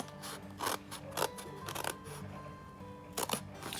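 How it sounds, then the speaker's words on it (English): Scissors snip through a paper plate, cutting outward from the center in short bursts of crisp clicks and crunches spaced irregularly, close and fairly quiet. "then you're gonna start cutting"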